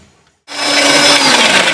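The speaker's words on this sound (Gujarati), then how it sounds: "હવે એમાં પાણી એડ કરવાનું અને ફરીથી ગ્રાઇન્ડ કરવાનું" A mixer grinder starts abruptly and whirs loudly and steadily as it blends pea chutney with added water.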